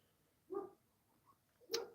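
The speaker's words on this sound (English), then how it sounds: "My dog's going off in the next room." A dog barks in the next room, two short muffled barks about a second apart, fairly faint and alone, with the second sounding a bit sharper.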